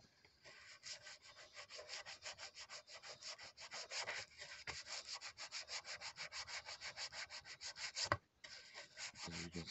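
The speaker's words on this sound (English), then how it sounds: "Now we're going to give this thing a scrub." Rhythmic scrubbing strokes work cured paint off a bass guitar body, a close, steady back-and-forth rubbing with one short break near the end.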